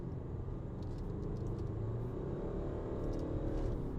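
A 2025 BMW X3 in sport mode accelerates, a low, steady engine rumble and road drone heard from inside the cabin, faint and continuous without speech.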